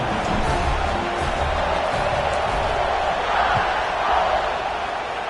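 Stadium crowd in College Football 25, a broad, steady roar of many voices that swells slightly now and then without letting up.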